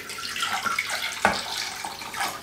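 Tap water runs steadily into a pan, covering eggs with cold water for boiling, a continuous splashing gush with a brief louder clunk midway.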